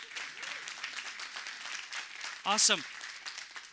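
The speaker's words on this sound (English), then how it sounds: "Yeah, if you're going to clap, go for it." Congregation clapping during a church sermon, a rolling wash of applause from the crowd that runs under the whole stretch, while a voice briefly speaks over it partway through.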